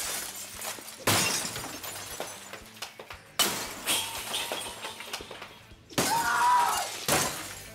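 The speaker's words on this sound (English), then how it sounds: "when I smashed up that kitchen." Repeated loud shattering and crashing as golf clubs smash up a kitchen, glass breaking in three separate bursts with clattering debris between them.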